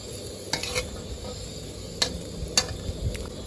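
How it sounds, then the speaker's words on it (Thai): Garlic, shallots and chilies dry-roasting in a pan for Isan-style mackerel chili paste, a low steady rustle and scrape with a few sharp clicks of the spatula against the pan. "ก็ทำการคั่วไปเรื่อย ๆ นะครับ ไม่ถึงกับให้ ไหม้นะครับ"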